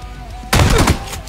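A single loud shotgun blast in the video game PUBG, sudden and close, cutting through a quieter game background and ringing briefly before fading.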